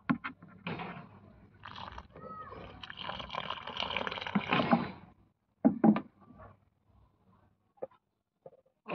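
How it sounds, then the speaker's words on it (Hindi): Water splashes and trickles onto a tomato plant in a rooftop garden, a steady close pour lasting several seconds, then a few scattered drips and soft knocks. "इसे भी पानी देते हैं।"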